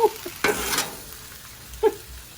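Chicken and pork fried rice stirred in a pan: a couple of brief scraping pushes of the spatula over a faint, low sizzle, close by, with no talking.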